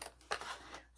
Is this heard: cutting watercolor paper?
yes